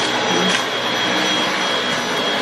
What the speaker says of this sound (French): j'aspire les tapis. Il aspire super bien les tapis.